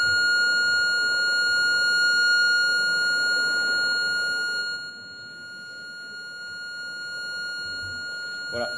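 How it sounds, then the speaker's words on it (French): An aircraft cockpit landing gear warning alarm sounds a continuous, unmodulated electronic tone steadily, then cuts off about halfway, leaving a quieter background hum. "c'est pas la meilleure des alarmes parce qu'elle n'est pas modulée, elle est continue"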